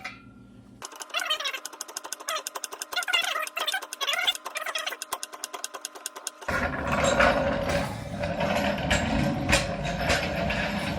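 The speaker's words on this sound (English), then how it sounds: "Now, let's get this on jacks." A floor jack raises a 2019 Honda Civic with a 1.5-liter turbo engine. Rapid ratcheting clicks come close up, then a louder, rougher, broadband mechanical noise takes over for the last few seconds.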